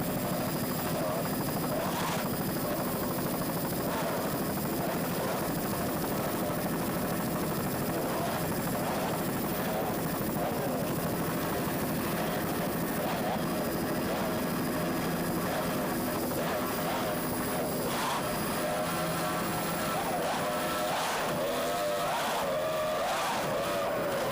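Loud, steady roar of three 2.5 powerboat racing engines droning continuously at close range during a 1993 race at Islamorada, with a faint voice occasionally audible beneath the noise.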